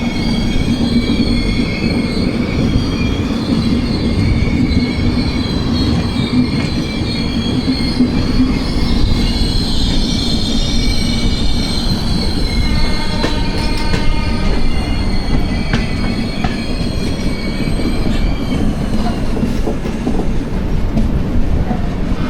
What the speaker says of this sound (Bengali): আমরা রেণিগুন্টা জাংশন ঢুকছি, আর পাশ দিয়ে বেরাচ্ছে হলো এটা হচ্ছে তিরুপতি এক্সপ্রেস